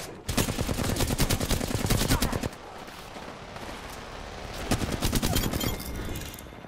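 Automatic gunfire in the Apex Legends battle royale game rattles loud and close in long rapid bursts, pausing briefly before another burst near the end.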